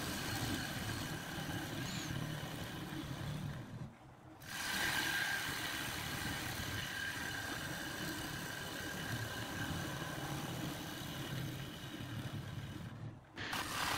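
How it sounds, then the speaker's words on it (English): Wood lathe running at raised speed while a bowl gouge cuts into an ash bowl blank, giving a steady, continuous rumbling whir with a scraping texture that dips briefly twice when the cut pauses. "Now we've also been able to kick up the speed on the lathe, so it's just a matter of using the bowl gouge"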